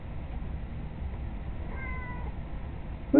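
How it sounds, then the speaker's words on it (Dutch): A cat meows once in a short drawn-out call, fairly quiet against a low room hum, followed by a brief louder noise at the end. "Het is de poes."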